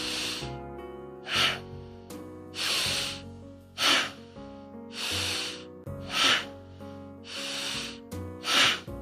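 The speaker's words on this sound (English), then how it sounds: "Inhale up, exhale forcibly down." Bhastrika pranayama breathing, with forceful inhales and sharp, hissing forced exhales alternating in a steady rhythm of about eight breaths, close and clear with no talking.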